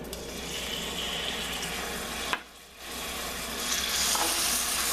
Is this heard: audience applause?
no